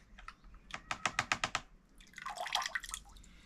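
Bloodworms being rinsed in a basin of clean water: a run of quick sharp taps followed by a swell of close, splashing and sloshing water, with no talk.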